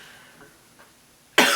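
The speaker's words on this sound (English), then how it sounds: "excuse me, I have a cough" A woman gives a single sharp, close cough after a quiet stretch, loud and abrupt.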